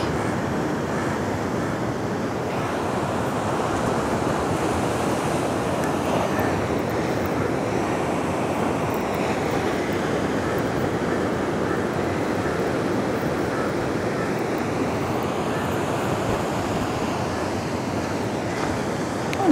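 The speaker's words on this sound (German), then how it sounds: "Lauscht nochmal den Wellen." Ocean waves roll onto the coast of Kerala, India in a continuous, moderately loud surf roar with some wind noise, steady for the whole stretch and without voices.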